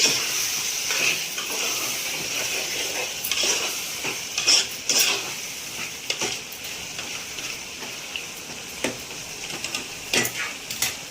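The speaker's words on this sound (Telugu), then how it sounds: "బాగా మగ్గిపోయింది, బాగా వేగింది అల్లం వెల్లిగడ్డ పేస్ట్ కూడా" Ginger garlic paste fries in a pan with a continuous, even sizzle, while a utensil scrapes and taps the pan in irregular strokes throughout; no voices are heard.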